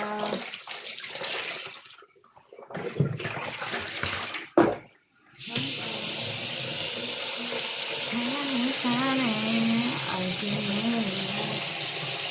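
Water splashing and running as a school uniform is washed by hand at night, choppy and uneven at first, then a steady close gush like a filling tub, with a voice speaking over the later part.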